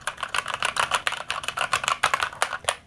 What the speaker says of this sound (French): ce sont des switches mécaniques Aukey rouge. Je vous fais tout de suite écouter ça.